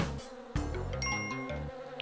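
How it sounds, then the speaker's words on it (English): Buzzing bees in the Spelunky jungle, a droning insect hum mixed with layered game chimes and tones, steady and close throughout the short stretch. "Why do I hear bees?"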